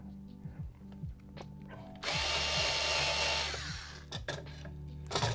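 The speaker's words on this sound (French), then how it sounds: "Donc voilà, on vient fraiser. Voilà. Le problème, c'est que ça fait un peu fondre le plastoc." A power drill fitted with a hole saw cuts into plastic, a loud grinding whir that lasts about a second and a half between quieter stretches of clicks and drill motor start-and-stop whines, close by with no talk.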